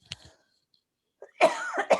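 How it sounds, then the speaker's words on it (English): A single sharp cough near the start, then near-silence, followed by a longer harsh throat-clearing cough burst close to the mic. "I have to cough here a minute."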